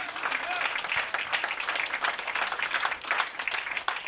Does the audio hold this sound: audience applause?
yes